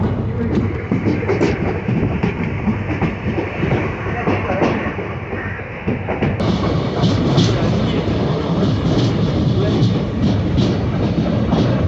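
A train at a railway station in Mangaluru, a loud continuous rumble of wheels and carriages with rhythmic clatter, close by, briefly dipping then resuming.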